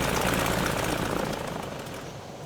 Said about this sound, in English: Give us a back thrust so that we don't roll off the end of the runway.